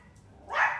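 A dog lets out a short, sharp bark indoors, one brief burst rising out of a quiet room.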